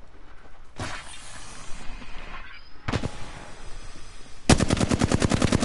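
Rapid automatic gunfire in a one-on-one shooter match, arriving in three loud bursts, with the last and longest volley a steady fast rattle, and no speech.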